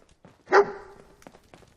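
The companion dog Dogmeat gives a single sharp bark in Fallout 4, a short loud yap followed by faint scuffling game sounds.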